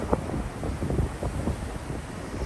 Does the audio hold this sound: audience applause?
no